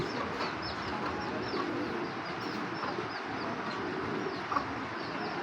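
Giribaz pigeons coo softly in a loft, their repeated low calls faint beneath a constant background hiss, with a few higher chirps from other birds scattered through.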